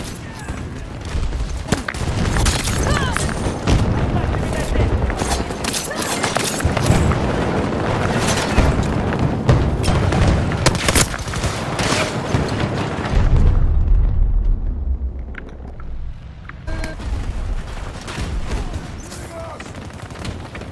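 Smart explosive bomb blowing up in Battlefield 2042 within a dense firefight, a heavy rumbling blast amid sustained loud gunfire, with the din dropping off briefly near the end before resuming.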